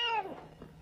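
A cat gives a single short meow, fairly close, its pitch sliding downward before trailing off into a quiet room.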